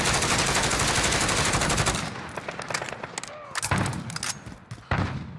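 Rapid automatic fire from a Grau 5.56 assault rifle in Call of Duty, a dense, loud continuous burst for about two seconds, then shorter sharp bursts and single cracks separated by brief gaps.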